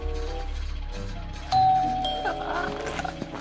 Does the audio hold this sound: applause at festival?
no